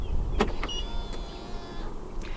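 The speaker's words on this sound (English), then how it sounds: "To lock the car, press the ribbed area on any of the front door handles." A short mechanical click and whir of a 2023 BMW iX xDrive40 locking, followed by a brief motor hum, heard close and quiet.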